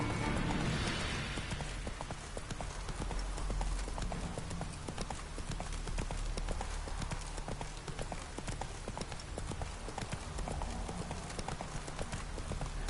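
Roach the horse gallops in The Witcher 3, a rapid, continuous clip-clop of hooves running steadily and close for several seconds, with a faint voice underneath at times.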